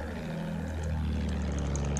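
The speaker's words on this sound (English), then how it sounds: "There's another plane up." A propeller warplane drones steadily overhead in a Battlefield 1 World War I battle, a continuous engine hum with faint distant pops behind it.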